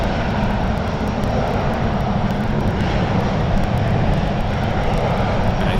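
A Korean Air Boeing 777-300 jet roars at San Francisco International Airport, a loud, dense, continuous engine rumble that holds steady throughout.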